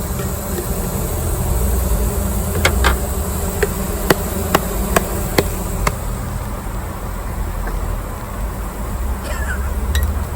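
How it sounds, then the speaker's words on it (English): Honey bees buzzing around an open hive as a beekeeper handles them during a mite check, a steady dense drone with a few sharp clicks and taps from hive tools partway through. "I'm going to put these bees back in the hive"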